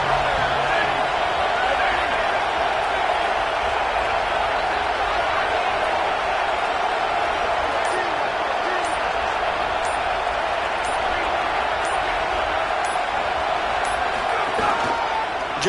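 A stadium crowd roars steadily at a college football game between North Dakota State and Oklahoma, a dense, continuous wall of cheering and noise that persists throughout.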